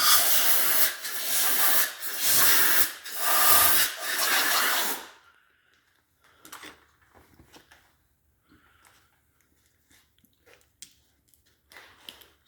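Bursts of compressed air blow out an engine's valve seat pockets, loud hissing blasts in a rough rhythm for about five seconds, followed by quiet shop clatter and small knocks.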